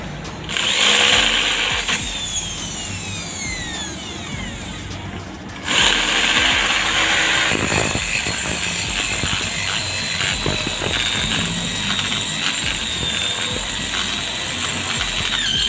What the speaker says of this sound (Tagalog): ito na yung malaking ano, barena.